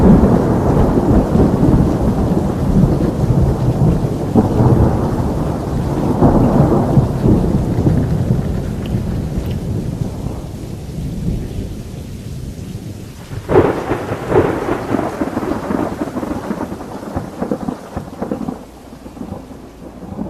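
A thunderstorm with loud rolling thunder over pouring rain, where deep rumbles build and fade and a sharp crack strikes later before the rain hisses on alone.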